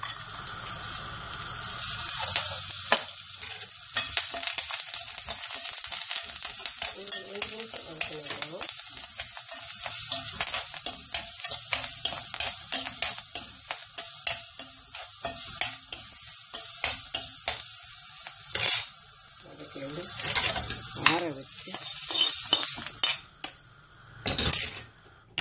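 Coriander leaves, curry leaves and ginger are sautéed in a pan for ginger chutney. A continuous bright sizzle runs under frequent stirring scrapes and spoon taps against the pan, and a louder clank comes near the end.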